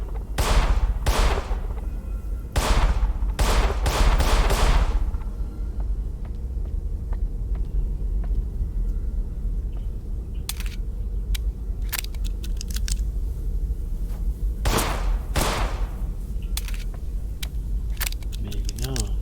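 Gunshots in the video game In Sound Mind: a handful of sharp, loud cracks in quick bursts early on, then a later pair of shots with scattered fainter clicks over a low steady rumble.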